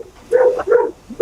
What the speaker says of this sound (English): Oh, you can hear my dog.